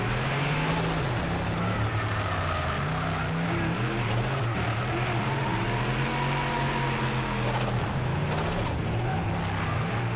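A 1UZ turbocharged car launches down a track with some clutch slip and shifts through the gears, its engine a loud, continuous drone with shifting pitch heard from nearby.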